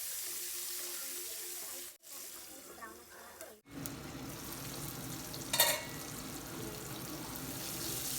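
Sliced onions fry with a pinch of turmeric in a covered pan, giving a steady, fine crackling sizzle that runs throughout, with a brief clatter and a couple of short breaks in the sound.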